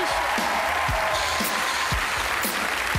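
A live comedy-show audience gives comedian Axel Lafont a dense, roaring round of applause. The sustained clapping fills the room, with a few dull thumps underneath.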